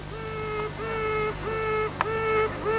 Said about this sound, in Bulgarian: а неизлюпената квака.